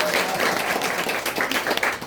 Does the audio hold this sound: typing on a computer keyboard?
no